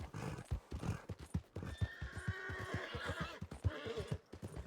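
A horse in the Western roleplay game WildRP whinnies in a long, wavering call over a steady run of clip-clopping hooves, with no talk.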